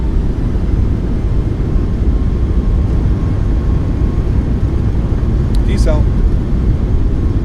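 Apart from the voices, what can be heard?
737 MAX thrust reversers after landing, Microsoft Flight Simulator game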